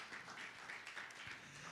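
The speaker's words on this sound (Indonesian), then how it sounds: "Tepuk tangan yang meriah bagi Tuhan Yesus." A church congregation applauds during a sermon, giving a short burst of dense, fairly faint clapping.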